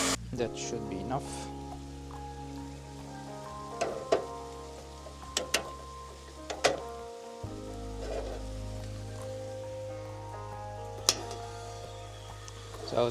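Beef frying and browning in a pan at a desert camp gives a soft, steady sizzle up close, with scattered clicks and clinks of cooking gear and a low background hum.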